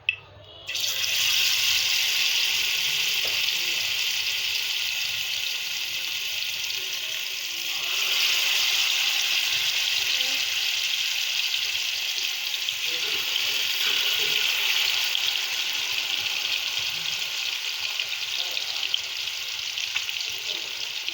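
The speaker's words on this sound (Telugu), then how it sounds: "ఆయిల్ హీట్ అయింది ఫ్రెండ్స్. ఇందులోకి ఫిష్ ముక్కలు యాడ్ చేస్తున్నాం." Pieces of fish frying in hot oil at home: a loud, steady, hissing sizzle that runs without a break throughout, close up, with no speech heard over it.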